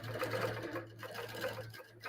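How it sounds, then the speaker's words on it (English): A sewing machine stitches steadily around a quilt, its motor hum continuous and fairly close for a couple of seconds, with a brief pause near the end. "So now it's just gonna sew away"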